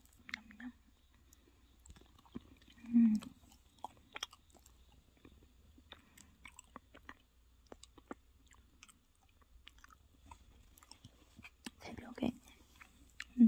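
Someone eats a convenience-store cookie cheesecake, with soft close chewing and a few moist bites and smacks between long quiet stretches and faint mouth sounds.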